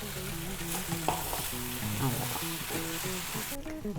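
Brinjal curry sizzles and fries in a pan as ground spice powder is stirred in, with steady scraping stir strokes over continuous close frying hiss.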